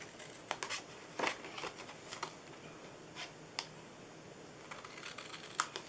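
Cardstock being cut with a paper trimmer for a mini bundt cake box, a series of quiet crisp clicks and slicing snaps in an irregular rhythm over soft background hiss.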